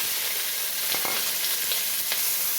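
Shallots sizzle steadily in hot oil, with a few short scraping stirs of a utensil through the pan.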